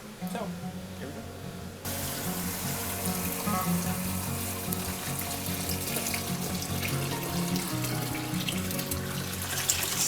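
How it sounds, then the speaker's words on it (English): Tap water pours steadily into a tall bucket to rinse tomato seeds, a continuous broadband rush starting abruptly after a brief quiet moment and running loud to the end. "So this is the first time we're filling this up, and we'll probably do this 3 times or so to kind of really rinse everything off."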